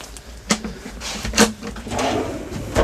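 A kitchen drawer in a 2022 Mobilvetta Kea P71 camper van slides open with a couple of sharp clacks and a brief rolling rumble, close and clear.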